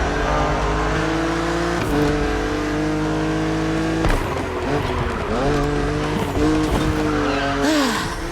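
BMW Z4 racing on Maui roads in The Crew Motorfest video game, loud engine revving up and shifting through gears, with tire squeals and skids on fast turns and no talk over it.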